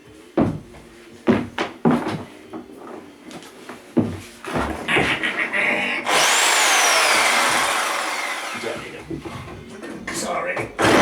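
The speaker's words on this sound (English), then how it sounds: "reciprocating saw." Reciprocating saw cutting through Victorian floorboards: after several knocks and clunks of boards being handled amid talk, a loud, sustained buzzing saw cut runs for about three seconds, followed by more knocks.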